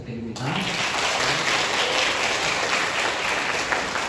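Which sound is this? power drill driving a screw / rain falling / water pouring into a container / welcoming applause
welcoming applause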